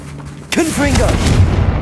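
The Confringo blasting spell bursts in Hogwarts Legacy, a sudden sharp explosive hit followed by a rolling, rumbling blast tail and crackle, loud and close, with a brief voiced cry over it.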